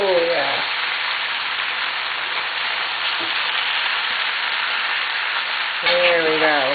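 Beef stir fry with pasta frying in a big frying pan, a steady loud crackling sizzle throughout, with brief voice-like tones at the start and end.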